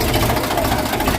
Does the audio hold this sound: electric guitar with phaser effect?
no